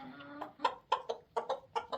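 Several chickens cluck in short, uneven bursts, fairly close, with a low steady murmur of other birds underneath.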